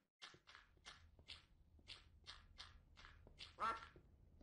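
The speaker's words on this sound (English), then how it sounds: "A duck." A duck in Minecraft quacks repeatedly in a quick, regular series of about a dozen short nasal calls, clear and close against a quiet background.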